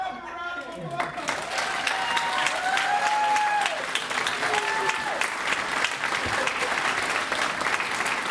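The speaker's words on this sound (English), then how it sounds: "Chief Select, oh, give them a round of applause" Applause fills the hall at a Navy Chief Petty Officer pinning ceremony for the Chief Selects, a broad crowd clapping steadily with scattered sharper claps and some voices rising over it.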